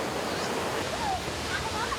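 Natural waterfall near Taipei, a stream pouring over golden-tinted rocks, a steady full rushing roar with some wind-like buffeting and faint higher tones drifting through, continuous throughout.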